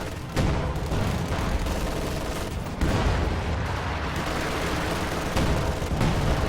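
Dense artillery and machine gun fire in a strategy video game battle, loud continuous rattling bursts with heavy booming shots breaking through near the start and middle.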